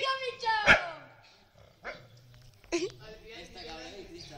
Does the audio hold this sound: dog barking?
yes